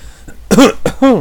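A man coughs into a close microphone at the start of a live show, two or three sharp, loud coughs in quick succession with a throaty, rasping edge.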